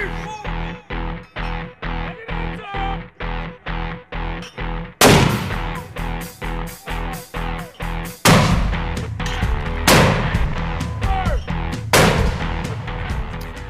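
Marine mortar live fire on a training range in Japan: a steady, rapid series of loud booming shots, then heavier blasts with long rolling echoes that overlap into a continuous roar.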